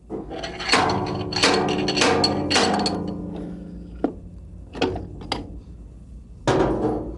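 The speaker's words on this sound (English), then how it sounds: "We have installed a slide hammer into the pump for removal." Repeated sharp metallic slams of a slide hammer pulling the pump from an A518 automatic transmission, several heavy impacts in quick succession, then a pause and a few more isolated clanks, close and loud.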